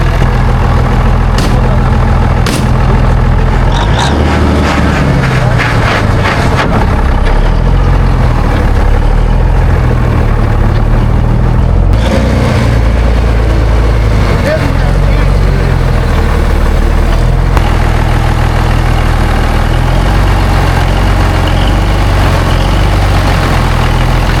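A 1962 Peterbilt truck, stored for about 20 years, idles with a deep, loud, steady rumble throughout, with scattered clanks and voices talking over the engine noise.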